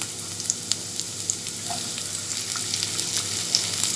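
Onions sauté in hot oil and ghee with cinnamon, cloves, star anise and fennel, giving a steady close sizzle with scattered small pops and crackles throughout.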